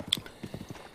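Horse hooves clip-clop in an evenly paced run of soft, close thuds through a Zelda game, with a single bright chime ringing out near the start.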